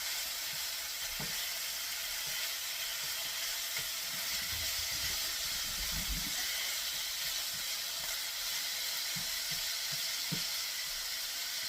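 Thin noodles frying in a wok with beef, a steady, soft hiss of sizzling broken by occasional low scrapes and clinks as they are turned.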